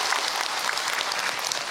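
An audience at an Islamic religious lecture gives a short burst of applause: brisk, dense clapping from many hands, steady and moderately loud for under two seconds.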